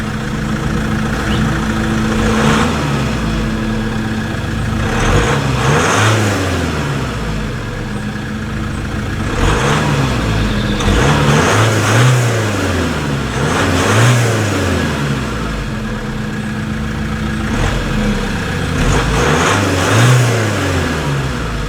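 A 2011 Vauxhall Insignia SRi pulls away on a test drive, its engine rising and falling through repeated revs and gear changes, heard steadily from inside the car with no talking.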